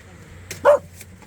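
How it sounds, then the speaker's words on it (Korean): A single short bark or yip from a dog sounds nearby over a low steady hum, brief and fairly loud, with no talk over it. "너 그거 달라고 짖는 거지 이제는."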